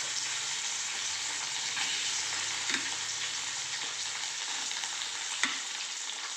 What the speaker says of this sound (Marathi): आता मी त्यात बटाटे टाकून घेतो.